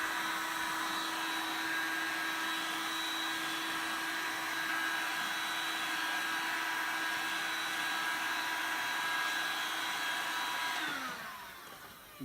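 A heat gun blows with a steady whirring hiss while warming a truck headlight housing to soften butyl sealant, running loud and constant before cutting off near the end.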